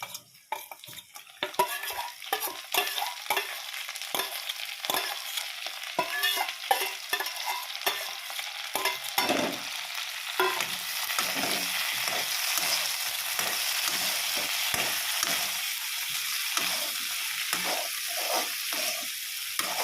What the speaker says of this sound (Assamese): এই মাছৰ মাথাখিনি অলপ ভালদৰে ভাজিব লাগিব।